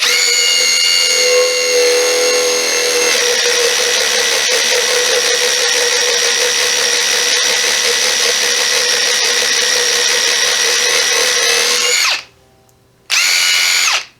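A loud, steady high-pitched whine of an impact driver drilling, with its blower attachment whooshing continuously to clear dust, then a brief stop and restart near the end.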